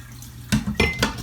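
Shredded potatoes for hashbrowns are rinsed in a bowl of water, with a few close clattering splashes and knocks of dish and water against a quiet background.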